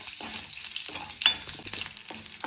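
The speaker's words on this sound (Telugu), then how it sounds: "తాలింపు తీసుకొని మంచిగా వేయించుకోవాలి" Garlic tempering fries in a pan, a close hissing sizzle with brief bursts and clinks of stirring.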